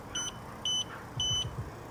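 Three short, high electronic beeps from a Golden Ally powerchair, evenly spaced and fairly close, over a quiet background.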